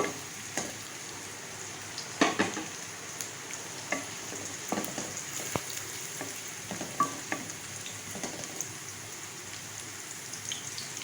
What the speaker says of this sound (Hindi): प्याज को भी फ्राई कर लूँगी